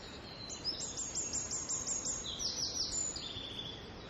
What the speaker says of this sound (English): that song there, with a little trill at the end, very specific song, very loud song from a tiniest little bird, that's the wren's song.